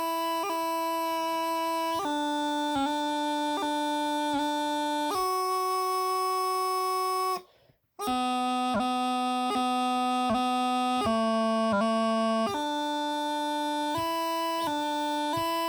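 A bagpipe practice chanter plays the first line of the carol Jolly Old St. Nicholas as steady sustained reedy notes, each cut cleanly by quick grace-note articulations, with one brief gap for breath midway.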